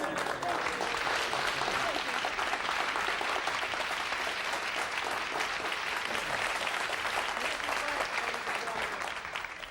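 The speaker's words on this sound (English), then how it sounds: "let's have a big round of applause for Jill" A studio audience applauds a guest named Jill on a variety show, a dense, steady wash of clapping that holds for nearly ten seconds and tapers slightly at the end.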